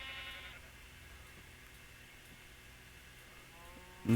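Sheep in Minecraft bleating during Xbox One survival play: one short bleat at the start and another louder one cut off at the end, with a quiet ambient bed between and no talking.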